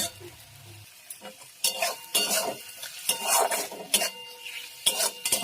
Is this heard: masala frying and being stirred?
yes